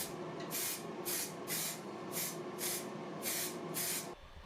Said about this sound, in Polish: pomalowałem białą farbą w sprayu